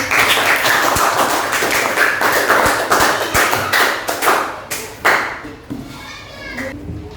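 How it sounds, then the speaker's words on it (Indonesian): A classroom of children claps together after a lesson discussion, loud, close hand claps in a fairly regular rhythm that start dense and grow sparser, ending in a few scattered claps with children's voices. "Kita beri tepuk tangan untuk diskusi hari ini."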